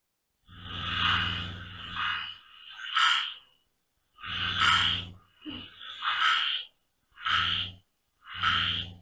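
Frog calls played back in bursts, deep throaty croaks with breathy rasping edges, loud and close, repeating in separated pulses with short silent gaps between them.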